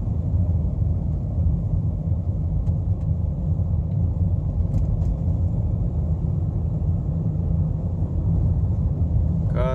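A car drives along a snowy road in England, producing a steady, loud low rumble of engine and tyre noise that holds constant throughout, with no talk.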